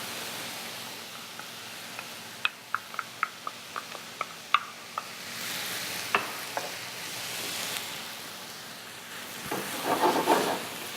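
Swiss chard and tomato sauce cook in a pan with a soft steady sizzle, punctuated by a series of light utensil clicks and stirring scrapes, with a louder bubbling flare near the end.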